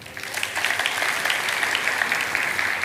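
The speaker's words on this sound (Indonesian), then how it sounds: "Puji Tuhan, kasih tepuk tangan Tuhan." A church congregation applauds during a worship service, steady dense clapping filling the whole stretch at moderate loudness, with no voices standing out.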